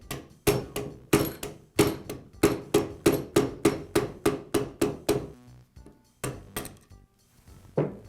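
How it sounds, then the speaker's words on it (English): A rubber mallet tapping a DeWALT drill armature shaft out of its bearing: a steady series of about twenty sharp, close knocks in quick rhythm, pausing briefly before a few final taps. "I'll use a rubber mallet to tap the armature shaft out of the bearing"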